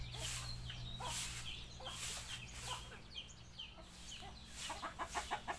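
Native chickens on a farm raising fighting cocks, clucking and calling in scattered bursts over a steady low hum, with a quicker run of clucks near the end.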